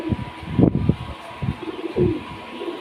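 Low, throaty cooing from a nearby pigeon, a few soft rolling calls in short bursts.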